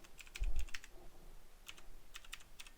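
Someone types a username on a computer keyboard, a few quick clusters of light key clicks separated by short pauses, with one soft low thump early on and no talking.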